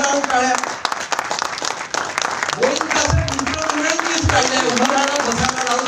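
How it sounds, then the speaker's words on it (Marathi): A crowd applauds at a felicitation ceremony with a citation presentation, its dense, steady clapping filling the room while voices carry over the top throughout. "उभं राहून टाळ्या"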